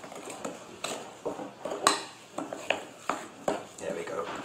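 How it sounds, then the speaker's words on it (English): A spoon folding melted butter into a thick chocolate batter for Kladdkaka, giving a run of scraping, clinking strokes against the bowl at an uneven rhythm, close up. "We'll take a spoon and just fold it in to make a nice gooey chocolate mixture."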